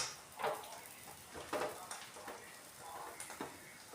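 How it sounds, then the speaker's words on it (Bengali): An egg roll wrapper fries in a kadai, a faint soft sizzle broken by several distinct scraping and stirring strokes of a utensil against the pan, quiet and close. "এবার এই পাশটা আর একটুখানি ভেজে নেবো।"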